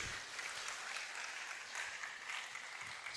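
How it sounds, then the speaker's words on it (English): An audience gives a round of applause for a professor's presentation at a budget event, a steady, distant-sounding wash of many hands clapping throughout. "I think we can give Prof a bigger round of applause for his presentation."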